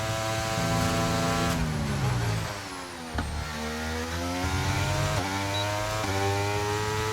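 An F1 car engine in the F1 23 racing game screams loudly and steadily, rising through gears, dipping briefly as it brakes around three seconds, then revving back up to a sustained high whine.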